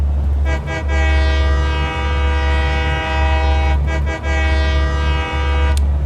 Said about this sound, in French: la compagnie tuto de Charlie abuse du klaxon, parce que c'est génial